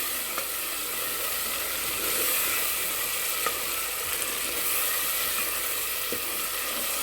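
Chole masala frying in a pan, giving a dense, even sizzle throughout with occasional light scrapes from stirring, close by and with nobody talking.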